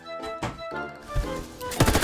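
Rapid automatic rifle fire in the online shooter Warface, an AK-12 assault rifle: several sharp, loud bursts of shots in quick succession, close and punchy, with no voices over them.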